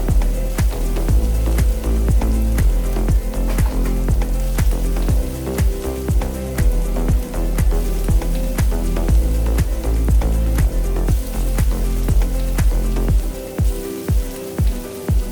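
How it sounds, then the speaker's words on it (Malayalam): Chicken curry in coconut milk boils hard in a pot, a loud, dense bubbling and popping that runs steadily throughout with no voices. "ഇപ്പോൾ തേങ്ങാപ്പാലൊക്കെ നന്നായി തിളച്ച് വന്നിട്ടുണ്ട്."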